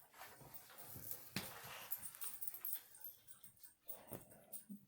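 A dog whimpers and whines softly in short, uneven bursts, close by and fairly quiet.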